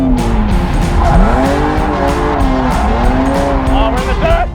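A drifting car thrown in with a handbrake entry at the top of third gear, tires squealing in long sweeping tones over steady engine roar, continuous and loud throughout the run.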